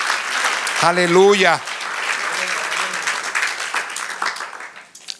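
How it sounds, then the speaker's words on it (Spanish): A church congregation claps steadily through a loud, shouted hallelujah from a preacher's voice, the applause continuing as a broad wash beneath his speech. "Dale un aplauso al Señor."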